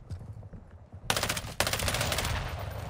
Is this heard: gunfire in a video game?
yes